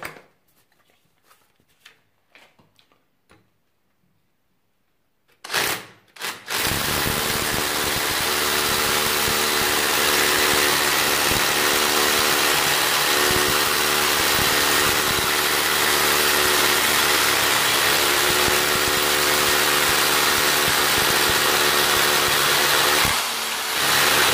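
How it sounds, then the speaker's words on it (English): After a few quiet knocks, a 20V brushless cordless SDS-Plus rotary hammer drill with a 12mm bit starts up and runs continuously and loudly with a steady vibrating roar until stopping near the end. "with no problem, it drills a hole"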